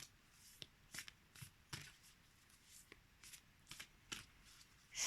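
Oracle moon cards being shuffled by hand in a run of quick, crisp riffling bursts, fairly close and soft, with brief pauses between shuffles and no talking.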